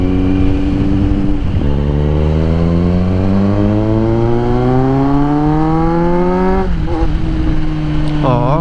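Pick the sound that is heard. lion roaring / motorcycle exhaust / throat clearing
motorcycle exhaust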